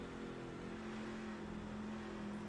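Race truck engine in a sim racing game, an online league truck race, droning with a steady tonal hum at moderate level, held revs without clear acceleration, no voices.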